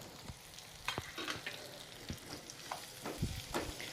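Faint sizzling of a tempering in hot oil as coriander is added, with crackles, pops and occasional stirring clinks, no voices.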